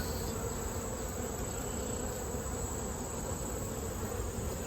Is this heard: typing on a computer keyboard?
no